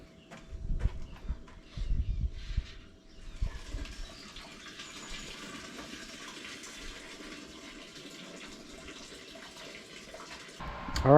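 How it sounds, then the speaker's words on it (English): Hot water pours steadily into a hot liquor tank during a home beer brew, a continuous broadband splashing that starts after some knocks and handling sounds and runs on without talk. "I'm going to capture that green hot water into my hot liquor tank"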